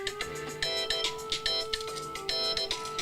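A mobile phone ringtone plays a bright, repeating electronic melody in quick rhythmic bursts, loud and close, with no talking over it.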